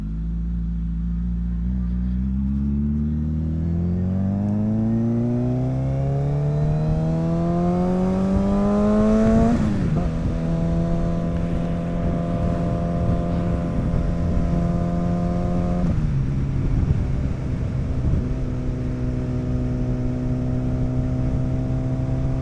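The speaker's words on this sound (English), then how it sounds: "the 360 cam is gonna pick up a lot more of the bike sound too" Suzuki Hayabusa motorcycle under way, its engine note climbing steadily through the gears with a rising whine, then dropping at each shift and holding a steady drone, loud and close over constant wind rush.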